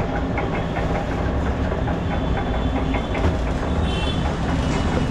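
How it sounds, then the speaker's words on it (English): A sugar cane juice machine runs at a busy local market in Delhi, giving a loud, steady mechanical rumble and rattle that fills the whole stretch with no let-up and no talk over it. "This is the sugar cane juice machine over here."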